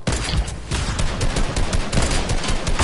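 Dense, loud gunfire in a video game, sharp shots in quick succession with no pause, crowding a three-second stretch with little else audible.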